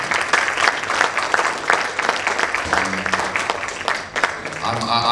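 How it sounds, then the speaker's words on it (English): An audience gives a big round of applause, a dense, loud wash of clapping that carries steadily throughout, with a voice briefly audible partway through. "I think we should give a huge round of applause for what this is"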